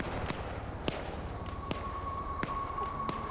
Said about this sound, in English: It might be another mortar.